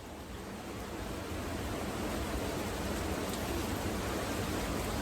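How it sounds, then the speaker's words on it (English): Steady, dense rain hiss pouring down without pause, a broad wash of noise that swells slightly in the first second and then holds loud and even. "It's pouring. It's pouring, y'all."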